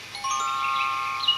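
A bell-like chime with a sustained tonal ring, steady and fairly clear for about a second, marking the moment to turn the page in a read-along storybook recording.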